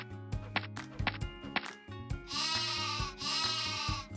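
Cartoon sheep bleating loudly in long wavering calls over rhythmic background music with thumping hits.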